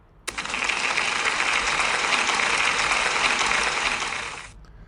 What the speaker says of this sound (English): So can we give Bailey a big round of applause?